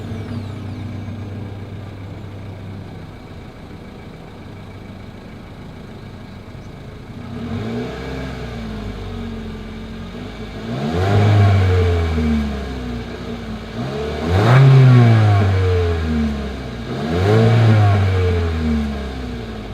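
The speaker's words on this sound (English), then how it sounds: "As always, here is that exhaust clip." A 2022 Mitsubishi Eclipse Cross idles steadily through its exhaust, then revs three times in short rising bursts, each louder than the last, before dropping back to idle.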